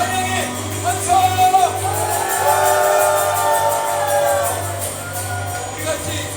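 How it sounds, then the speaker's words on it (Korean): A church congregation at a Korean worship service shouting and whooping in praise, loud crowd voices swelling together over sustained background music. "우리 주님께 찬양의 함성"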